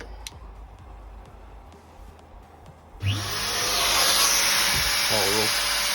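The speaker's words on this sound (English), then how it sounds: "Spindle control on." A CNC spindle on a 3D-printed WoodyCarver 1200x1600 CNC powers up halfway through, leaping from quiet room noise to a loud, high, steady whine that holds to the end.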